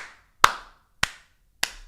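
Three sharp, separate hand claps sound close and loud, spaced roughly half a second apart, with silence in between.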